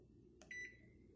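A kitchen timer being set for one minute gives a single short, clear electronic beep that rings briefly against a quiet kitchen background.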